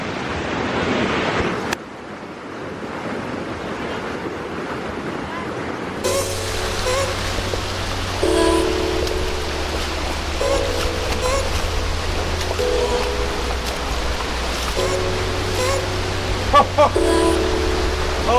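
A waterfall roars in a gorge, a steady broadband rush of falling water that fills the whole stretch, close and loud, with a droning tonal hum layered over it in the later part.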